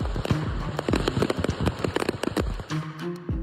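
A pickup truck loaded with fireworks explodes on a highway in Tennessee, sending out a dense, continuous barrage of loud crackling pops and sharp bangs that overlap rapidly throughout.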